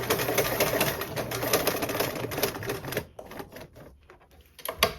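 A sewing machine sews fabric down with a fast, steady clatter of stitches for about three seconds, then stops and starts in short bursts with scattered clicks. It is close and loud, with no talking.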